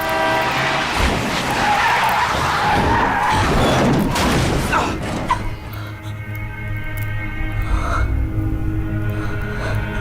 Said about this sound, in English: Bella doesn't actually witness anything undeniably supernatural until she almost gets hit by a car